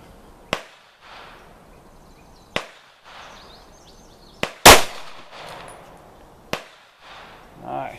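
Several sharp, loud 9mm gunshots ring out at spaced intervals while the rounds are fired through a stack of boards. One shot is much louder and rings on longer. Faint talk is heard near the end.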